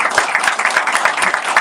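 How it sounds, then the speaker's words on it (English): A round of applause from the audience at a county cancer event, close, loud clapping with distinct individual claps in a quick, uneven rhythm throughout. "So let's please give a big round of applause"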